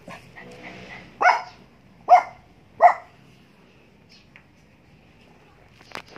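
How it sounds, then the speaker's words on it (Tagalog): A dog barks three times in quick, loud bursts close by, then goes quiet apart from one faint yip near the end, in a yard where an American bully and Shih-tzus are eating grass. "Huwag kang kahol ng kahol."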